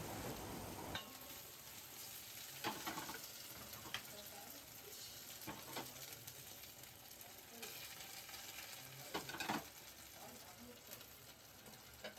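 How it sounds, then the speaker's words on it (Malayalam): Mustard seeds fried for a tempering are stirred into a green chutney in a home kitchen: a faint, soft sizzle with scraping and clinking spoon strokes at irregular intervals. "അപ്പം ഇത് കടുക് വറുത്തിട്ട് അതിനകത്തോട്ടിട്ട് ഇനി ഇളക്കാനായിട്ട് പോവാണ് കേട്ടോ"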